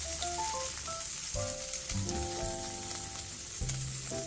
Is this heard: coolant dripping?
no